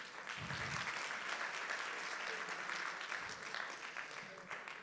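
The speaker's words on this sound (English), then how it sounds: "huge round of applause for Mumbai." Audience applause at the Earth Care Awards ceremony, a sustained, even wash of clapping from a large crowd heard at a distance and fairly faint.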